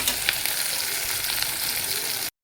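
Three ingredients frying in a pan before chicken is added, a loud, dense, continuous sizzle that runs steadily and then cuts off abruptly.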